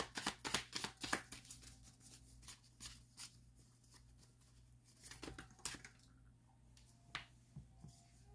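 Tarot cards are shuffled and drawn close by, with quick papery riffles and snapping flicks at the start, then softer intermittent slides and taps of cards over a faint steady hum.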